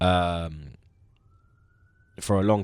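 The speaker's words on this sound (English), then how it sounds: "Apologies for the sirens in the background" A police siren wails faintly in the distance, heard mainly in a short pause between stretches of close male speech.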